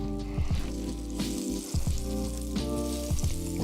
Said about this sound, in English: I'm gonna go ahead and add my butter.